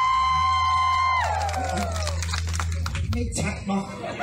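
Audience members at a live stage show in Phichit, Thailand burst into cheering and clapping as an amplified tone fades out, the crowd noise rising and falling briefly.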